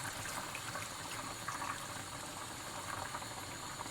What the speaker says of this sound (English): now what you're going to do is add about 3 cups of water